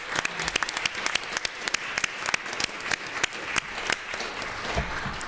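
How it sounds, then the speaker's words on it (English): Audience applause at an animal law competition awards ceremony, many hands clapping in a brisk, scattered rhythm that carries on steadily throughout without talk over it. "give yourselves and give each other a big round of applause"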